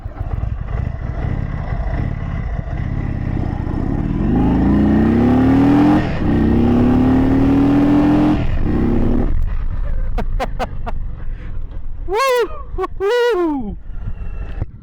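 A 2022 Indian Super Chief cruiser with the 111 engine, set to sport mode, revving and pulling hard under acceleration, a loud rising engine drone that climbs through gears before easing off, with a few short whoops afterward.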